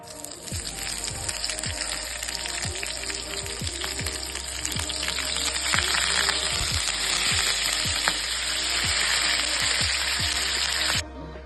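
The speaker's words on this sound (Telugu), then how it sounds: "ఇప్పుడు పచ్చిమిర్చి కరివేపాకు వేసుకుందాం" Green chillies and curry leaves fry loudly in a pan, a dense continuous sizzle and spatter with a regular series of low thuds or scrapes throughout, stopping abruptly near the end.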